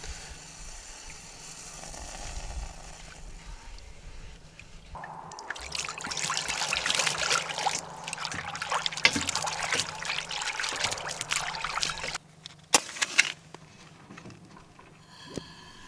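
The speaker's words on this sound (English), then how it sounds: "I'm going to do a bit of soap in here and water" Water with a little soap poured into a pan at a woodland camp, trickling and splashing in an uneven run of several seconds after a quiet start, then brief sloshes near the end.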